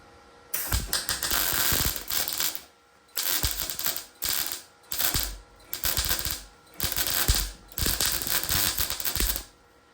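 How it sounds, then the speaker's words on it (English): Tack welding a BMW E46 overfender with a cheap 110-120 volt welder while the paint burns: about six loud, crackling bursts of roughly a second each, separated by short pauses, with no talk. "And I'm just gonna start tack welding along here."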